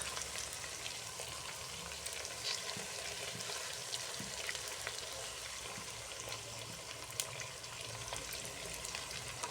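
Chopped onion and green chillies sautéing in a pan for a chicken roast, a steady soft sizzle with faint scraping, continuous and fairly quiet throughout with no voices.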